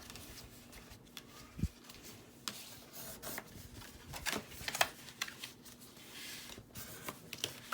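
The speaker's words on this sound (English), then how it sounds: "we're gonna just fold them up on the score line" Paper milk carton pieces being folded by hand along score lines for a craft project, with quiet crinkles, rubs and sharp creasing snaps in an irregular rhythm, close and soft.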